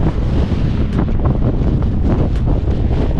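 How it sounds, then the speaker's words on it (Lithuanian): Strong wind on the coastal headland of Ponta de São Lourenço, Madeira, roars steadily and loudly against the microphone, a constant buffeting rumble with no talk. "čia jau jaučiasi vėjas"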